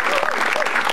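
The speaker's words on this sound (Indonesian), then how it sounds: "tepuk tangan Yanto Stress." Brief burst of audience applause at an Indonesian stand-up comedy show, dense clapping from a crowd lasting about a second at fairly loud level.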